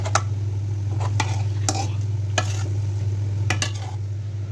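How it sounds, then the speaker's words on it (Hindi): Chicken spaghetti noodles are stirred in a kadhai over a constant low hum, with several sharp scraping clinks of the utensil against the pan at irregular intervals. "अब इसको मिक्स करना है।"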